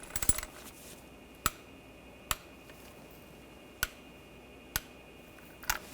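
Torque wrench tightening bolts to 16 foot-pounds on a 2007-2013 BMW X5 3.0L L6 transfer case shift motor: five or six sharp isolated metallic clicks spaced about a second apart, close and crisp over a quiet background.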